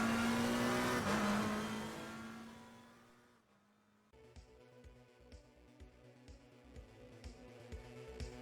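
A race car in Assetto Corsa Competizione holds a steady engine drone, then drops pitch and quiets before a rougher, pulsing engine tone returns, all without talk.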